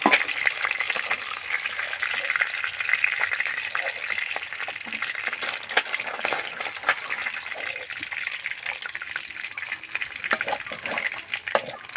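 Gagra fish frying in hot oil in a pan, a dense, continuous crackling sizzle with frequent sharp pops and spatters, close and steady throughout.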